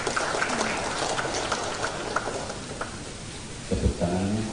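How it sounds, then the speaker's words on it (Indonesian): Applause from an audience at an official inauguration ceremony for newly sworn-in members of the Papuan People's Assembly (MRP) in Papua, a steady, dense clapping wash that swells briefly near the end, with a voice heard near the close. "Tepuk tangannya kurang keras"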